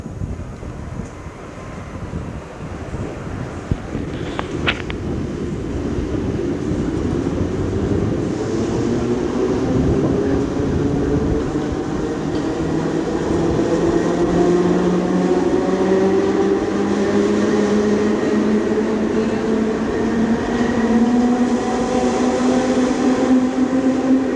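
A Berlin S-Bahn train pulls out of an elevated station, its rising motor whine and rolling rumble building steadily and staying loud, with wind buffeting the microphone at the start.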